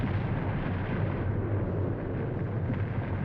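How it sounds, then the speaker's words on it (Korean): A volcanic eruption at Mount Baekdu gives a loud, continuous deep roar and rumble that stays dense and unbroken for the whole stretch, with no voices. "백두산이 폭발한 것이다."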